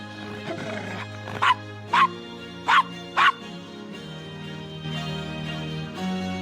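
A dog in the Gabriel Knight: Sins of the Fathers video game gives four short, evenly spaced barks, close and fairly loud, over quiet ambient game music.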